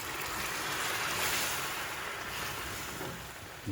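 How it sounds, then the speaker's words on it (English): Broth poured into creamy risotto in a pot, making a continuous broad rushing, splashing hiss from start to finish, close and fairly loud, with no talking. "I'm going to take my broth and I'm going to dump about half of it in there."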